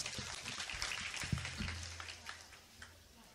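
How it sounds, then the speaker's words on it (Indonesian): Audience applause at a pesantren end-of-year celebration, a loose patter of clapping that swells briefly and then thins out toward the end. "Tepuk tangan"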